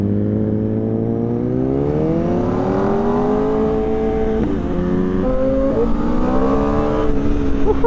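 A 2025 Aprilia RSV4 motorcycle engine revs hard while being ridden, pitch climbing and dropping through several throttle blips and gear changes, loud and close against rushing wind.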